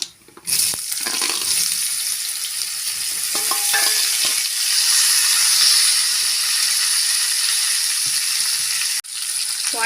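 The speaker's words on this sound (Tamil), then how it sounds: "எல்லாம் நல்லா வறுபட்டுடுச்சு நம்ம வேக வச்சா வாழைக்காயை சேர்த்துடலாம்" Boiled raw plantain frying in a pan with curry leaves, a steady loud sizzle broken by scraping stir strokes, sharp clicks and knocks, briefly dropping away near the start and again near the end.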